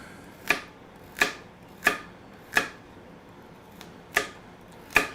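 Knife slicing through sablefish to trim off the ends, six or seven evenly spaced crisp chops against a board at roughly half-second to one-second intervals, close and clear with no talking.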